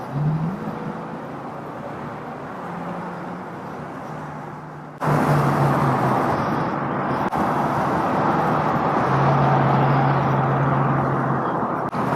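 A 1937 Ford street rod cruises at around highway speed with a steady, close interior rumble. The engine note rises slightly as it pulls, with no talking over it.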